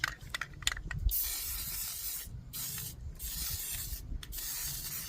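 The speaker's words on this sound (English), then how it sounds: "strip it of the rust and then spray it down" A spray can hisses in several bursts onto rust-stripped metal outdoors in wind, short sprays at first, then longer sustained jets separated by brief pauses, close by and fairly quiet.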